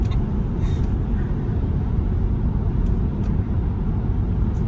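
Steady low road rumble and tyre noise from inside a Tesla Model Y rounding a corner, a constant cabin drone with faint high squeaks.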